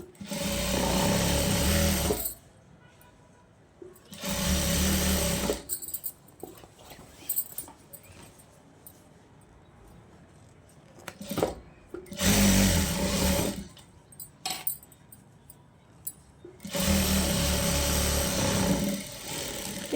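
A sewing machine stitches a folded hem on a petticoat in four loud bursts of steady whirring, separated by quieter stretches of handling and rustling.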